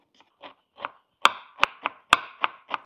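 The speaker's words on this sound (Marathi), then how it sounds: "आपण आता कांदा बारीक कट करून घेऊ।" A knife finely chops onion for a dhaba-style paneer masala curry, making about nine sharp, close taps: a few softer ones at first, then crisp, evenly spaced strikes, with silence between them and no talking.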